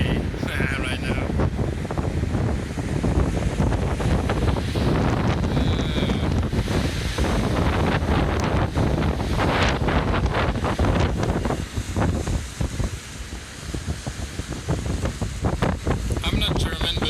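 A sailboat under a German flag passing beneath a bridge, with loud continuous wind buffeting and rushing water that stays heavy throughout and eases slightly near the end.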